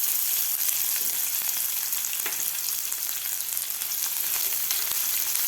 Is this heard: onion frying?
yes